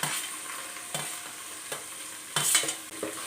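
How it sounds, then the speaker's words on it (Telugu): Thinly sliced onion stirred as it fries for a ridge gourd curry, a quiet sizzle broken by about five distinct scraping strokes of a spoon against the pan, evenly spaced and close. "ఉల్లిపాయ ముక్కల్ని వేగే వరకు తిప్పుకుందామండి"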